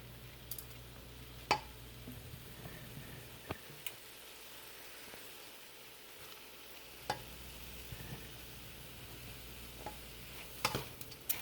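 Lentil, potato and spinach soup stirred in a pot on the stove, soft scraping strokes and a few sharp utensil knocks against the pot over a low, steady simmer.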